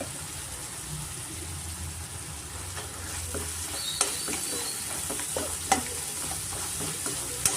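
Puliyogare mixture with tamarind juice being sautéed in a pan, a low continuous sizzle with repeated scraping and clacking of the spoon against the pan at irregular intervals, close by and without speech.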